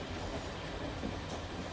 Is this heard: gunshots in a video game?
no